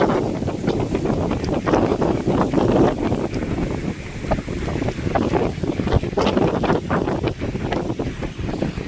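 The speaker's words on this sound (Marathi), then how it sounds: "बापरे, वारा बघ" Strong, gusty wind roars and buffets continuously across the whole stretch by a hotel swimming pool, with a constant rushing noise and no talking.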